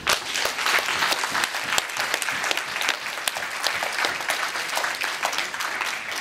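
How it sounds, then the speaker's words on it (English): Loud, dense applause from an audience at a retirement celebration for presenters who appeared on stage, a sustained roar of many clapping hands with scattered sharp claps, close and continuous throughout. "please give a really special round of applause to all of the people who presented on stage tonight"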